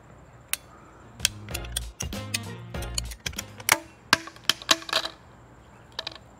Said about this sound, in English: give it a couple of ratcheting clicks till it bites